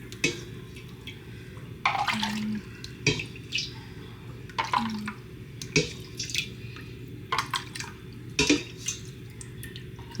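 Hot water running from a kitchen tap while making homemade pizza and bread dough, a steady close splashing stream interrupted by several clinks and knocks of a container or dishes being handled.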